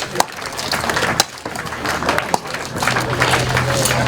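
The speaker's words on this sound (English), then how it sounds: "Ladies and gentlemen, put your hands together" A speedway crowd at an Isle of Wight Warriors versus Plymouth Gladiators meeting claps steadily as riders come onto the track, a noisy outdoor wash of applause with occasional sharper knocks.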